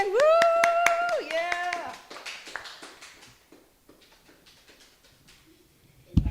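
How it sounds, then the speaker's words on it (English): Small house-concert audience claps for a storyteller, scattered hand claps opening over a loud whooping voice, then thinning to a few faint claps; a brief word is spoken. "let's do a round of applause to Kira Larkin"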